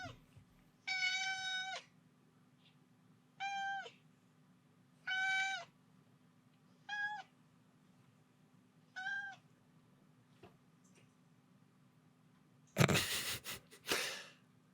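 A house cat meows five times in a steady, evenly spaced series, close and clear over a low indoor hum, followed by a couple of short noisy bursts like sniffs or a sneeze.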